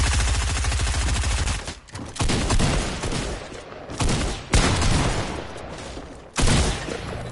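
Video game gunfire from an assault rifle, with rapid automatic bursts rattling loud and close in several long volleys broken by short pauses, no talk over it.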